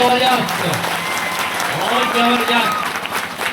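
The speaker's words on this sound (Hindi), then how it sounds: "मैं चाहता हूँ आगे से पीछे तक घनघोर तालियों से आप स्वागत करें।" Loud, sustained applause from a crowd at a Hindi poetry gathering, a dense wash of clapping spread across the whole hall, with faint tonal sounds threaded through it.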